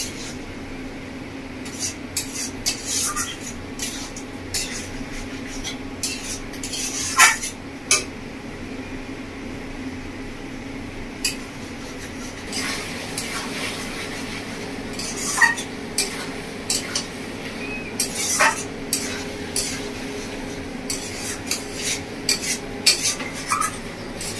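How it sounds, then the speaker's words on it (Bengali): Chicken kosha being stirred in a pan over a high gas flame, with metal spatula scrapes and clinks against the pan repeating throughout over a low background hiss. "গ্যাসের ফ্লেম বাড়িয়ে ভালো করে কষিয়ে নেবো।"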